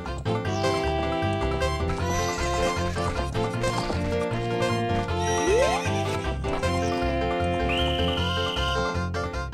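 A horse whinnies in the GameCube game Zelda: Ocarina of Time Master Quest, its rising neigh cutting through busy, steady game music, with light clip-clop hoofbeats mixed in.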